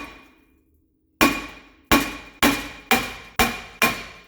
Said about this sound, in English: Get a big hammer and smash it right here at the top.